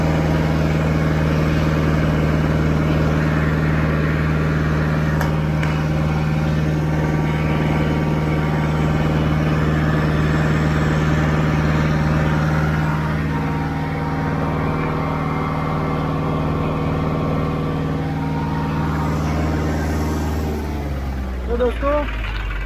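A John Deere 5039 or Kubota 4501 tractor engine runs at full RPM, a loud, steady close drone that eases off and settles lower near the end, with a voice talking over it.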